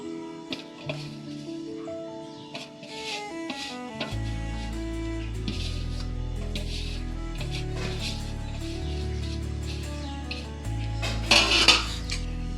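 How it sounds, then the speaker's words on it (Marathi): A softened sabudana mixture being stirred in a pan with a metal utensil, making repeated close scrapes and clinks over a low steady hum. "आता याला पूर्णपणे व्यवस्थितपणे याला मिक्स करून घेऊया सगळं मिश्रण"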